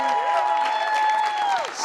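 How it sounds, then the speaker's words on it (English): A studio audience applauds and cheers on a talk show, loud and brief, with a sustained musical tone running through the clapping. "Give her a big round of applause one more time."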